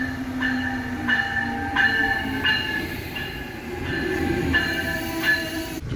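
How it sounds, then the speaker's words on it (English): A New England passenger train rolls into a station, wheels clicking rhythmically over rail joints with faint squealing tones, steady and fairly close, no voices. "here's my train finally coming in"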